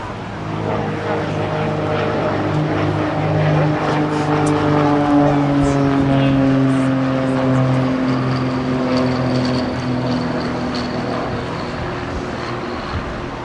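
A small training aeroplane flies aerobatics at the Bournemouth Air Show, its propeller engine droning steadily and loudly, the pitch sliding as it climbs and turns, while an announcer talks over the PA.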